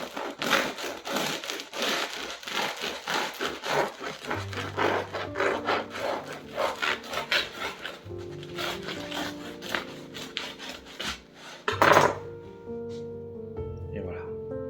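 A knife saws through the crisp crust of a loaf of traditional French bread in repeated rough rasping strokes up close, with crackling, and a person speaks partway through.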